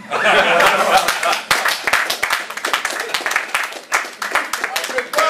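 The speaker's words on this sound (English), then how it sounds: "Let's give another round of applause, ladies and gentlemen." A press-conference audience at a boxing event applauds, with dense clapping that fades and swells alongside voices and some chuckling, fairly close and loud.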